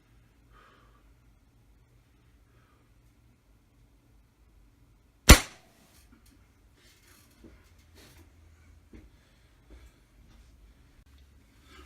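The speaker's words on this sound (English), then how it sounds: "Let's shoot this ball of protein and see what happens." Air gun firing a hollowpoint pellet into a ball of protein, one sharp, close crack in an otherwise quiet room, followed by faint handling noises.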